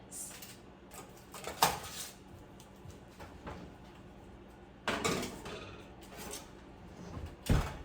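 A covered roasting pan of sweet potatoes is slid back into the oven, giving a few scattered metallic clanks and door-like thuds between quiet stretches of low room noise.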